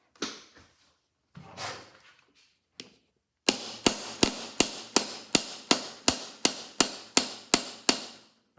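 A hammer drives a stuck pulley pin out of an Edison Gem phonograph: a few scattered light taps, then about thirteen sharp, evenly spaced metallic blows ringing close and loud in a steady rhythm.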